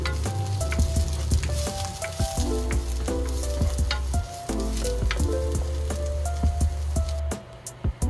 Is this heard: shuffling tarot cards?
no